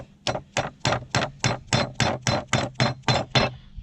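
A part on a Hydrovane vane steering unit is tapped back into place through a socket, with about a dozen evenly spaced metallic knocks at a steady beat. The knocks are close and fairly loud.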